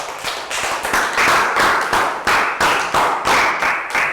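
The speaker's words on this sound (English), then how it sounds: "And a big round of applause for Pat." Small classroom group clapping in unison for a pupil during a math lesson, a close, rhythmic series of sharp claps at a steady pace, about three per second, with no talking.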